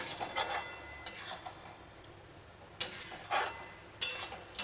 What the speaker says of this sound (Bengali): এটা দিয়ে এবার ভালো করে নাড়বো